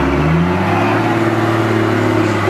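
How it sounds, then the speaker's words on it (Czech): A Tatra 810 truck's engines rev hard on an extreme 4x4 obstacle course, a loud, sustained heavy roar with rising and wavering pitch, close and continuous throughout. "Otáčky motorů"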